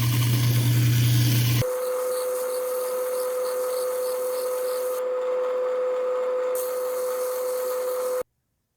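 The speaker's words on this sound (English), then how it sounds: "After about a minute of grinding here, I haven't made much progress" A gemstone preform ground on a faceting lap gives a steady, even grinding whine with a constant tone, loud and close, running without a break and then cutting off abruptly.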